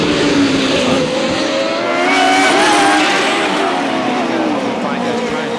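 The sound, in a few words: IndyCar race cars on the straightaway at Mid-Ohio, 1986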